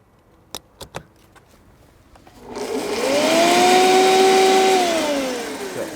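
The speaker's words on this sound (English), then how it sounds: "Large blender next time." Several sharp clicks, then a large blender powered from a Hyundai IONIQ 5 electric car spins up into a loud, rising motor whine that holds steady and starts winding down.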